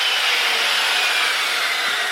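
Woodworking router cutting wood: a continuous loud, high-pitched motor whine with a hissing cutting tone, close and steady throughout.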